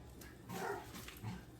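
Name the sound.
dog barking in the kitchen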